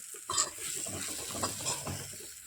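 Cut pieces of podi idli fry in a pan, a quiet sizzle with soft stirring and scraping sounds rising and falling throughout.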